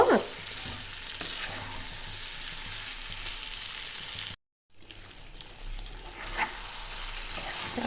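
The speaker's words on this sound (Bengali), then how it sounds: "চিকেনগুলো দিয়ে আমি এক থেকে দু মিনিট একটু মিডিয়াম টু লো ফ্লেমে একটু কষিয়ে নেব" Chicken pieces sauté over a medium-low flame, giving a dense, close sizzle with stirring scrapes; the frying cuts out for a brief moment midway, then resumes just as strongly.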